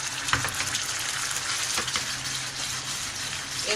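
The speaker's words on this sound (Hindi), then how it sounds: "ये हम कोफ्तों की भुनाई कर रहे हैं।" Potato koftas frying in a pan over medium heat, a steady close crackling sizzle throughout with light stirring.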